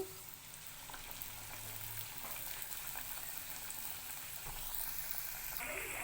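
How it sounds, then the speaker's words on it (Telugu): Veg Maggi rolls deep frying in hot oil, a steady, even crackle and sizzle that stays close and fairly quiet throughout, with no talking. "ఇలా అయితే డ్రీప్ ఫ్రై అవుతున్నాయి ఇలా మంచిగా వేగించుకోవాలి"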